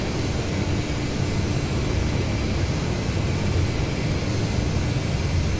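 In DCS World, an AJS37 Viggen jet lands with its thrust reverser engaged, producing a loud, constant broadband jet roar with a deep rumble that continues without a break.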